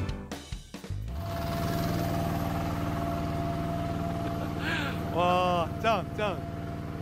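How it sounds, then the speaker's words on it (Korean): A tractor drives past on Seungni-ro, its steady low engine drone rumbling close and loud throughout, while people exclaim briefly over it near the end. "승리로를 지나가는 트랙터"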